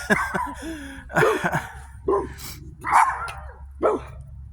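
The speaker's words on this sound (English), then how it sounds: "You two don't need to be barking." Two dogs bark outdoors at night beside a bonfire, a run of loud, close barks and yips in irregular bursts over a steady low background hum.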